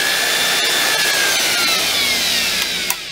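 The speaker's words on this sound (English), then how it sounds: "you can see that I can actually adjust the speed of that drill" An electric drill spins steadily, its speed controlled through a Circuit Specialists TDGC3-2D 20A variable transformer, giving a continuous close whirring hum with a faint rising and falling pitch and no talk.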